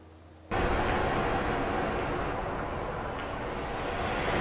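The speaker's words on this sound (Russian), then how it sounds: "Да, вот такой звук волн." Ocean waves played from a recording, a steady broadband wash starting abruptly after a brief quiet moment and holding constant and fairly loud to the end, with no talk over it.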